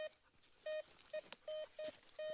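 Metal detector sounding off over buried metal at an off-grid treasure-hunting dig, a series of sharp electronic beeps of varying length repeating roughly every half second, close and clear over a quiet background.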